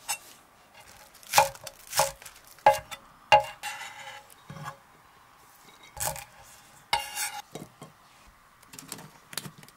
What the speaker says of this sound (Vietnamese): Hành lá mình cắt nhỏ.